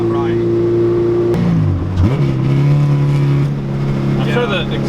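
A K-swapped Honda Civic EG runs loud and close, its exhaust sitting nearly against the body. The engine drone dips in pitch, then settles into a steady buzzing tone while people talk over it.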